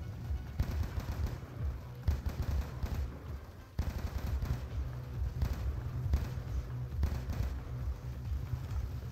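Bursts of gunfire rattle through a Black Ops 2 firefight on veteran difficulty, with repeated short volleys and pauses between them, moderately loud and steady across the whole stretch.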